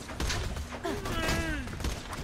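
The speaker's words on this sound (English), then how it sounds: "Put the rest of Tina's explosives on those safes and watch the fireworks." Explosives detonating on safes in Borderlands 2, heard as a loud, dense burst of booming game blasts and rattling fire over about two seconds, with sweeping tonal effects and a voice speaking over the din.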